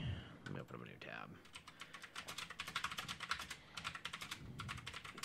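Rapid clicking keystrokes on a computer keyboard, near and fairly quiet, arriving in quick bursts after a short stretch of talk.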